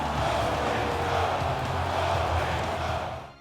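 A hockey arena crowd chanting in the video game NHL 16, a steady, loud, massed roar of voices holding throughout before easing off at the end.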